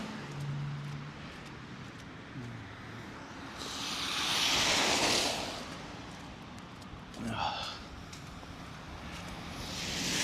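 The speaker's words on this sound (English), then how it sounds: "It is now so windy that it's actually becoming harder to navigate everything." Strong wind rushes in loud gusts during an outdoor walk through slushy Toronto, swelling for a couple of seconds, easing, then surging again in shorter bursts over low background rumble, with a little talk.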